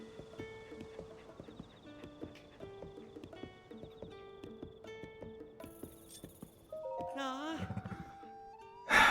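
Horses at a stable in Zelda Tears of the Kingdom clop in steady, close hoofbeats over soft musical tones, followed by a loud whinny and a brief closing burst of sound.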